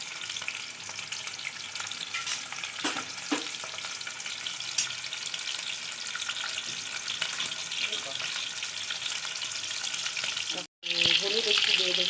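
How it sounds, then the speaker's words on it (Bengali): Dried fish sizzling and spitting in hot oil in a pan, a steady loud crackle that carries on with only a momentary break near the end, with no voices. "এই রান্নার আওয়াজটা যেটা হয় তেলের মধ্যে কিছু দিলে, আওয়াজটা কিন্তু খুব সুন্দর"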